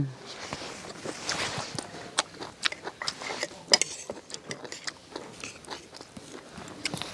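Someone eats food dipped in Thai chili paste, with close, crisp bites and crunchy chewing clicks repeating irregularly over a soft hiss, alongside faint murmurs.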